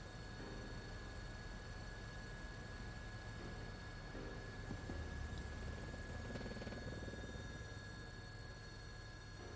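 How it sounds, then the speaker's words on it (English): Steady droning rotor and engine noise of a helicopter, constant and fairly loud throughout, with no talking, in the video game Persona 4 Arena Ultimax. "It's amazing that you know how to pilot a helicopter, Kikuno-san."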